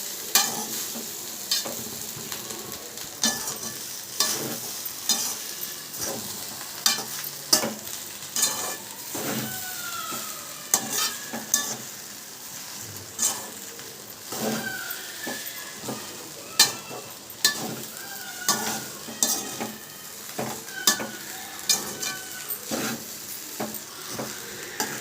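Egg rice mixed with white rice in a hot pan, stirred with a utensil: a continuous low sizzle broken by repeated scraping and clanking strokes at an uneven rhythm, close and alone.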